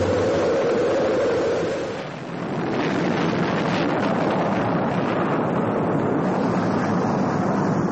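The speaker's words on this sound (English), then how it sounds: "We've gone for main engine start. We have main engine start." A played recording of rocket main engines starting at launch fills the room at a live bar music show as a loud, continuous broadband roar that dips briefly and then surges back steadily, with no talking over it.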